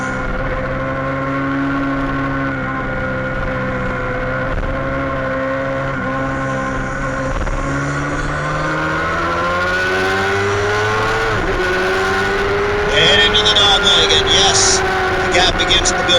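Open-wheel race cars in a Formula Femme race scream around a racetrack, their engines holding a loud steady tone with shifting pitches as they pass close by. A commentator talks over the engines throughout.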